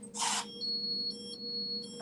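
A key card electronic door lock gives a brief buzz as it unlocks, then a short sequence of high beeping tones in a quiet room.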